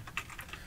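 A few quick, light keystrokes on a computer keyboard tap out a short burst of soft clicks, close and clear against quiet.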